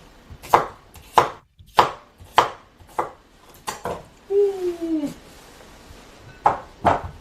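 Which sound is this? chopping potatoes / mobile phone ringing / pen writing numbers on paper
chopping potatoes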